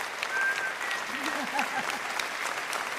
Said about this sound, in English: Get him some applause, please.